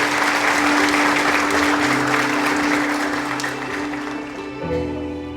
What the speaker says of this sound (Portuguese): Você pode aplaudir uma vez mais?